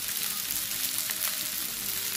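Half-cooked jeera rice with chopped coriander being stirred in a pan, giving a steady soft sizzle with faint scraping, close and continuous with no voices.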